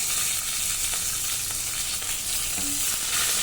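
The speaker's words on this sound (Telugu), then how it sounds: "ఇప్పుడు ఒక ఎనిమిది పచ్చిమిరకాయల వరకు తీసుకోండి వాటిని కూడా వేయించండి" Green chillies and coriander seeds fry in a pan for tomato chutney, a steady, close crackling sizzle that carries on without pause, with faint stirring scrapes underneath.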